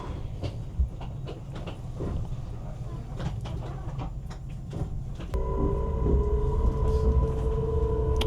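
A regular train pulls into Como station in Italy, its rumble and rattling wagons steady at first, then a louder hum with sustained tones as it slows; a voice talks briefly over it.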